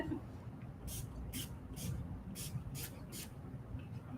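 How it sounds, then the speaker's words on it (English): Six quick hissing bursts of a spray bottle spraying alcohol, fairly close, in an uneven rhythm over a low background rumble. "Spray with alcohol."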